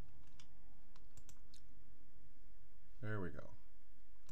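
A few light computer mouse clicks sound close by in a quiet room, followed by a brief spoken remark.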